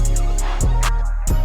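A hip hop beat with sustained synth chords, steady low bass and regular crisp hi-hat hits, played alone with no voices.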